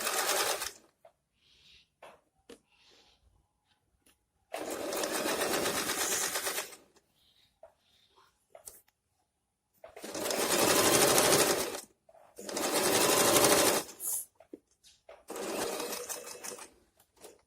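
Sewing machine stitching a pant seam, running in several separate bursts of rapid whirring with quiet pauses and small handling clicks between them, close and distinct.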